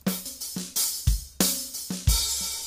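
A full drum kit track run through the Nomad DrumTools effect plugin in Studio One, with punchy kick and snare hits and bright cymbals in a steady, driving groove, loud and alone with no talking.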